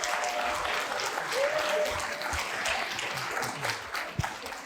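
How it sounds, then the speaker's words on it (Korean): An audience at a social welfare policy forum for candidates in the 2022 Gyeongsangnam-do gubernatorial election applauds steadily as a candidate takes the stage, the clapping even and continuous throughout. "응원의 박수 좀 부탁드리겠습니다"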